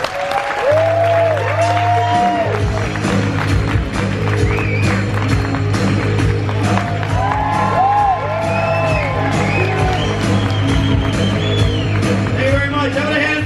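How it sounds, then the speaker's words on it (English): A loud cruise ship crowd applauds and whoops as an act is welcomed on stage, with dense clapping, shouts and cheers layered over music and talk from the stage. "Let's give a round of applause"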